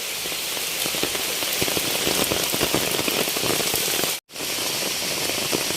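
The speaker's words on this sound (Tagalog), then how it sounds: "At sa lakas po ng ulan." Heavy rain pours steadily by a river, a dense hiss of drops drumming on a surface, close and constant with no voices.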